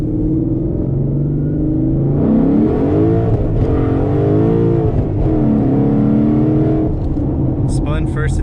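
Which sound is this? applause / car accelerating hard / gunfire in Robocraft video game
car accelerating hard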